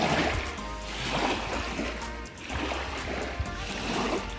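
Waves wash rhythmically against the shore of a marshy lake edged with reeds, with broad surging swells rising and receding at moderate volume and no speech.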